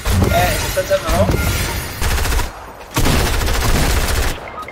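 Rapid bursts of gunfire and booming shots from a first-person shooter match inside a house, loud and dense, breaking off briefly before resuming, with a voice talking over parts of the fire.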